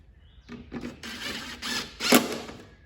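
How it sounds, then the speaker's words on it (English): Screws are driven back into the headlight of a 2021 Toyota Supra with a hand tool, giving a few close, quiet clicking ratchet turns and mechanical rattles in short bursts. "Run them screws back in."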